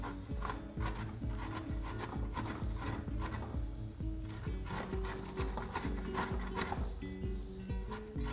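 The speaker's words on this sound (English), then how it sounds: "So we're using one of the finer edges of the grater to grate the ginger." Fresh ginger is rubbed against the fine edge of a metal grater for a turkey curry, producing rapid, rhythmic rasping strokes that repeat steadily and close up, with no voices.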